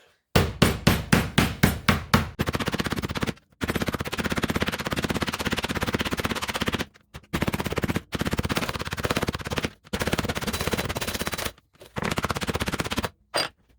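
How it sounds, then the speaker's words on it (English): A hammer pounds pieces of venison jerky meat to tenderize it: a rapid string of loud, close blows, then long stretches of dense continuous pounding broken by brief pauses. "Now I'm going to pound my meat with the hammer."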